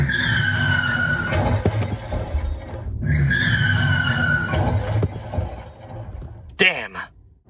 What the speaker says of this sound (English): Sound effect once again ready?